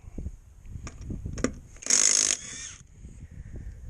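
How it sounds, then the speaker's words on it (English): An impact wrench fires one short, loud buzzing burst while fitting wheel nuts on a 1962 Morris Minor, surrounded by clicks and light handling noises. "this just takes far less time to use this impact"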